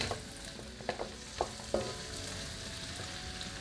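Shrimp heads fry in a pan while making creamy sipo egg, giving a continuous, close sizzle broken by a few sharp taps and clicks from stirring. No voices are heard.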